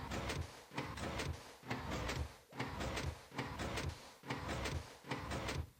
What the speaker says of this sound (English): fire the observer, which will also fire the piston